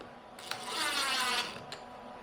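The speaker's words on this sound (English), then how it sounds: "you're going to drive your screw." A short, quiet mechanical whir of a screw being driven into a wooden bathroom vanity false front, lasting about a second, with faint clicks at the start and end.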